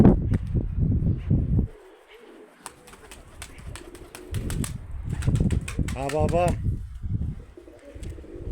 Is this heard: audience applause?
no